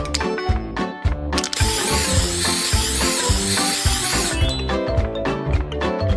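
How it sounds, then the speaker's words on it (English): A can of spray paint coats a jar lid. A loud, continuous hiss runs for about three seconds in the middle, and light background music plays before and after it. "Make them uniform by spraying them with your favorite color paint."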